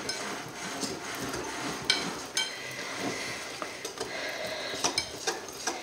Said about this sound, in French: on mélange pendant quelques instants afin d'obtenir une pâte lisse et homogène